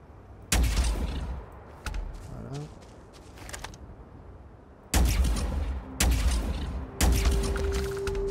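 A particle beam sniper rifle in Starfield fires several heavy, sharp blasts, each followed by a rumbling tail, with quiet pauses between the shots.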